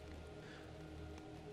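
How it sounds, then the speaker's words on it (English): Heavy storm rain pours steadily onto a roadside surface, a dense, even hiss that stays constant and fairly soft throughout, with no voices. "The rain was falling heavily."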